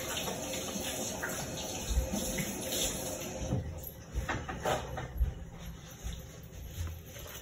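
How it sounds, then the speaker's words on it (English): Running tap water and hand washing at a sink in a home during a lockdown, heard as a steady close splashing wash with a faint electronic hum and occasional knocks and handling sounds. "let me wash my hands"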